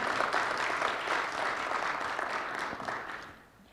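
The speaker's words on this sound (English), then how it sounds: "can we give a round of applause to Reverend Dr. Nabors and First Lady Nabors" Applause from an audience at a community forum inside a church, a steady wash of many hands clapping that fades out over the last half second.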